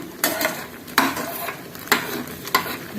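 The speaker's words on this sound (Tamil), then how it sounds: "லேசாக அப்பப்போ கலரி கொடுக்கணும்." Jaggery syrup stirred in a pan over a medium flame, with a soft steady sizzle and four distinct scraping strokes of the spoon against the pan, close and alone with no talk.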